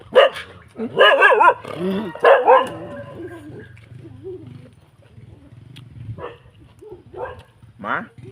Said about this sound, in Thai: พี่นัองหมาเห่ารถ